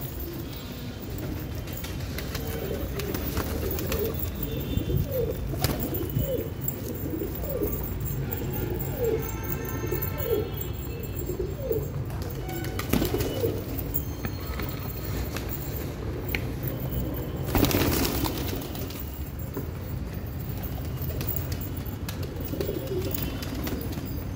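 Many pigeons in Hyderabad coo repeatedly in a soft, overlapping chorus, with scattered rustling and fluttering nearby.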